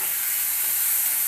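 Banana flower mixture for chops sautéing in a pan gives a steady, close hissing sizzle with no talk.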